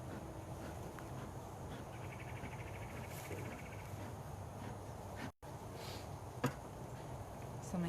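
Honey bees at a hive make a faint, steady droning hum that runs throughout, with a couple of small knocks near the end.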